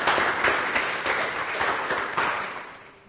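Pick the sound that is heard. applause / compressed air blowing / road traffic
applause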